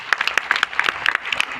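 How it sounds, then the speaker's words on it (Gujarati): Audience clapping for a makeup artist at a live makeup session, a brief burst of dense, lively applause from a modest crowd, close and fairly loud. "તો એક તાળીઓ હમણાં પડવા માટે"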